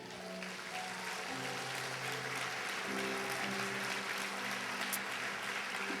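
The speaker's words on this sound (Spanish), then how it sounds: "Dale un aplauso a Él" Applause from a church congregation during a sermon, a steady wash of clapping that fills the room without a break, distant and fairly soft, with sustained tones underneath.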